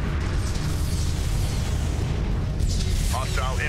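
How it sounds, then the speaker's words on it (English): Continuous booming artillery impacts and explosions from a Homeworld: Deserts of Kharak battle form a dense, loud rumble, with radio-style voices talking over it. "The artillery will deal with them."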